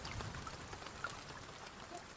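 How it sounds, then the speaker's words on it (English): Steady rain patters on a surface outdoors at a wet campsite at night, a dense, even hiss of drops with a few louder individual splats, close and continuous with no talking. "Get the rain to stop."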